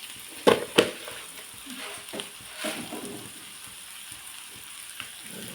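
Vegetables sautéing in a pan over a medium flame for egg dosa give a soft, steady sizzle, with a few sharp utensil clinks near the start and no talking.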